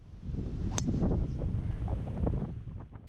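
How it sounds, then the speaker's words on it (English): Wind gusts buffet the microphone on a golf course, a steady low rumbling roar that swells and eases over a few seconds, with no talk. "The wind was blowing from left to right."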